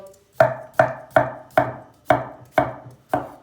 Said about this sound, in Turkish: Patatesleri çok ince doğramayacağız.